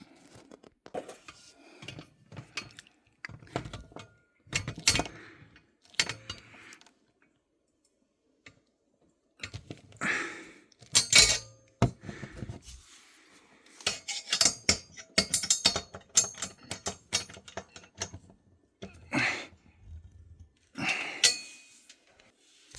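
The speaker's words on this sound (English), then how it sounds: "Now this one, which is probably a 40 Torx, now that it's lined up, we'll tighten it up." Sharp metallic ticks and clinks come in irregular bursts as a wrench tightens a Torx bolt on a winch mount in a garage, with short pauses and one longer silent gap.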